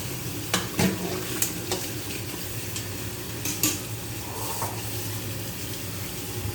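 Salad greens are washed by hand in water, with splashing, rustling leaves and intermittent watery swishes close by, and a faint steady background hum.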